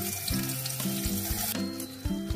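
Sliced onions frying in leftover fish oil from cooking tuna steak, a continuous close sizzle and crackle over steady background sound, with no talking.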